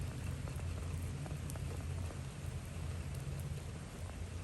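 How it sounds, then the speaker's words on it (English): Steady rain falling outdoors, a dense continuous hiss with a low rumbling undertone and no voices. "It's rain. It's raining outside."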